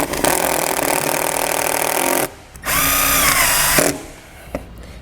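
Power drill driving screws into an RV slide-out awning bracket, a loud steady whir for about two seconds, a short pause, then a second burst of about a second, close up.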